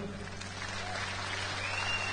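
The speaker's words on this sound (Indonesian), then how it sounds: "Kasih tepuk tangan dulu." Steady applause from a live audience greeting a car owner invited up for a dialogue, continuous and moderately distant, with a faint low hum underneath.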